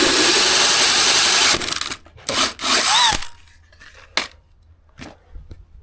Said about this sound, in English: you cut a hole in the airbox